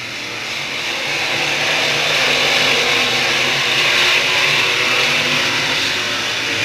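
Thunder Cars race cars roar around an oval track as the pack comes out of turn four onto the front stretch after a green-flag restart, a loud, steady, continuous engine drone throughout.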